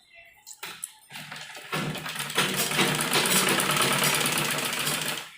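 An electric sewing machine stitches cloth for a bell-sleeved umbrella frock, starting with a few short bursts and then running in a fast, steady mechanical whir, close and clear.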